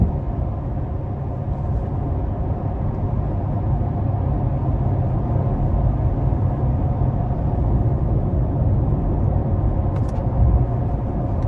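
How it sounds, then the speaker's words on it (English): A 2022 Chevrolet Corvette C8 convertible cruising steadily with its engine in cylinder deactivation mode, giving a continuous low, even rumble with road noise and no talk. "And then that 4-cylinder deactivation mode just happened there while I was cruising."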